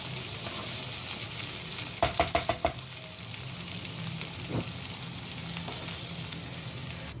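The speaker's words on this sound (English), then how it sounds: "Just keep stirring. It's like a stir fry." Capsicum rice stir-fries in an uncovered pan with a soft steady sizzle, broken by a quick run of five sharp spatula clinks against the pan and a later scrape, with no talk.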